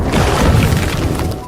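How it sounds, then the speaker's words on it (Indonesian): A loud, rumbling ship explosion with crashing debris, filling the whole moment before it cuts off. "tepat saat kapal itu meledak."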